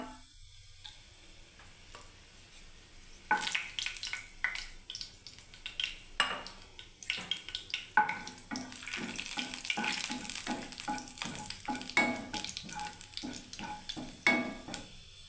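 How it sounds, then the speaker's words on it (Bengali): Dried red chillies dropped into hot oil in a pan, crackling and sizzling with scattered sharp pops and occasional clinks of a utensil against the pan, moderately quiet and close. "বন্ধুরা দেখুন শুকনো লঙ্কা দিয়ে দিলাম।"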